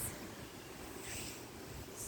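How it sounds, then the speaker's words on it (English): Wind blowing through a garden outdoors, steady rushing noise throughout with gusts swelling near the start and end. "it is windy today"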